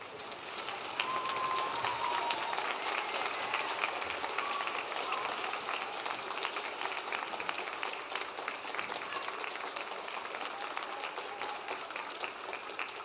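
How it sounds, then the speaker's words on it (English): A standing audience at a junior high school Veterans Day program gives sustained applause, a dense, continuous patter of many hands heard from some distance, steady for the full stretch with crowd murmur mixed in. "Now let's stand and give our veterans a big round of applause"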